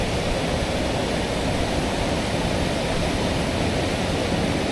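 Water rushing over the Ivanhoe Crossing, a flooded causeway near Kununurra in outback Western Australia, forms a loud, steady broadband roar with no breaks across the whole stretch, and no voices are heard.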